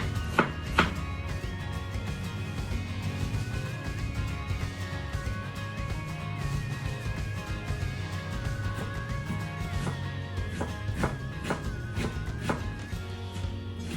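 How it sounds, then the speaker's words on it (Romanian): An onion is finely chopped with a knife on a board for braised cabbage with smoked pork ribs, a string of rapid, even taps with a few sharper knocks, close up and without speech. "Între timp tăiem bine ceapa."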